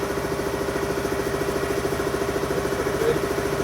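A building heater runs steadily in a workshop, a constant close hum with a fixed tone and a faint rapid pulsing rhythm, no talking over it.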